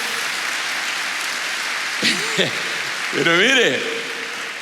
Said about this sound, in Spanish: Dale otro aplauso al Rey bendito